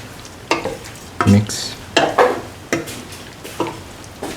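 Beef stew in a pot with garam masala spices being stirred: a series of scraping, clattering spoon strokes against the pot at an irregular pace, with a soft sizzle underneath and no talking.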